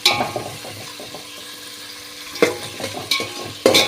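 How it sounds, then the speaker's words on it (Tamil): Onions sautéing in a pan for mushroom biryani, a low steady sizzle broken by sharp scraping stirs near the end, close and alone with no talk. "நல்லா நம்ம சவக்க சவக்க வதங்கி வரணும் அந்த அளவுக்கு நம்ம வதக்கிக்கலாம்"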